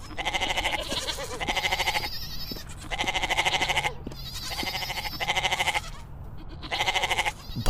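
In an Islamic cartoon for Eid al-Adha, a goat bleats repeatedly in loud wavering cries, about five calls separated by short pauses.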